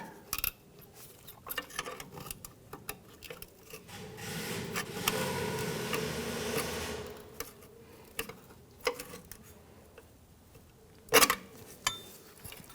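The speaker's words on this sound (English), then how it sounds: "Let's go ahead and pop these little retainers out." A trim tool pries plastic ABS wire clip retainers loose on a 2011-2021 Jeep Grand Cherokee. A close scraping rub builds in the middle, then a few sharp clicks and snaps come separately, with quiet handling noises between them.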